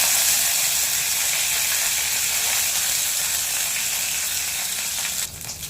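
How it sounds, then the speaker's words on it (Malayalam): Mustard seeds, urad dal and curry leaves sizzling in two tablespoons of hot oil, a loud, steady frying hiss close up that drops off sharply near the end. "എണ്ണ ചൂടായിട്ടുണ്ട്. കടുക്, ഉഴുന്നിട്ട് കൊടുക്കാം. കറിവേപ്പില ഇട്ട് കൊടുക്കാം."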